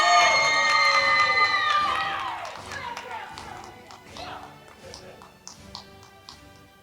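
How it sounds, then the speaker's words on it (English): At a 2020 high school commencement ceremony, a crowd cheers for the graduates over a brief tonal sound at the start, then scattered claps and shouts trail off into quieter, sporadic applause. "let's give them a round of applause"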